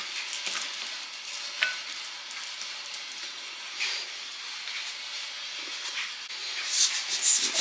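Carrots and onions frying in a pan, a continuous bright sizzle and hiss with occasional stirring clatter and small pops, growing louder toward the end.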